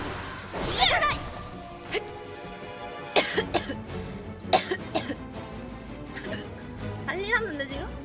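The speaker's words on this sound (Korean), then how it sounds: "기침 나오고" A woman coughs and clears her throat several times in short bursts while playing a game on a live stream, the coughs close and irregular and mixed with her talking and small knocks.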